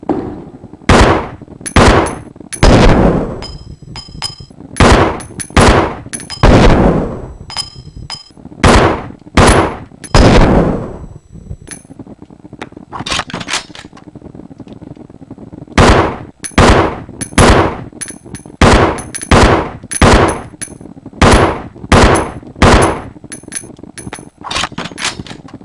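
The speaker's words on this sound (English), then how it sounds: "Now for the next weapon, Rebecca's handgun. The standard equipment for STARS officers. It uses 9mm parabellum rounds." Rebecca's 9mm handgun firing in Resident Evil Zero, a loud, sharp series of single gunshots in quick rhythmic bursts with short pauses between volleys, each crack followed by a brief decaying tail.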